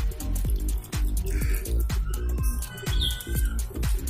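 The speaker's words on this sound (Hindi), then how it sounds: "इसके बाद मैं इसमें वाटरिंग कर देता हूँ, अच्छी तरीके से वाटरिंग किया कीजिए, ताकि पानी एकदम नीचे ड्रेनेज होल से निकल जाए।" Water poured into a potted plant and draining through the pot, a steady splashing trickle with rhythmic drips and gurgles, while birds chirp faintly in the background.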